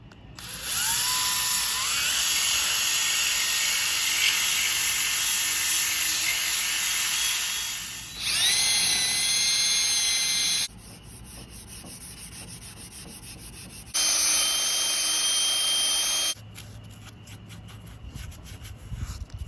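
A power tool scours heavy rust off a Dana 60 axle from a '78 Power Wagon, a loud high grinding whine in long bursts with pitch shifts, dropping to quieter scraping between passes.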